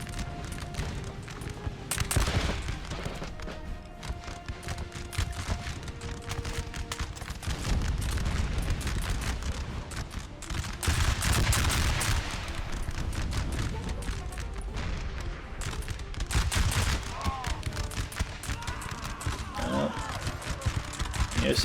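Massed musket volleys crackle and boom across a Napoleonic battlefield in Napoleon: Total War, with repeated bursts of gunfire swelling and fading over a steady din while someone talks over it.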